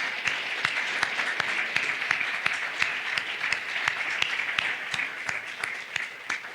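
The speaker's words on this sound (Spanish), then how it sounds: "vamos a darle un aplauso de gloria a Dios" A church congregation claps steadily for several seconds, a dense, even patter of many hands with sharper individual claps standing out, fairly close and without talk.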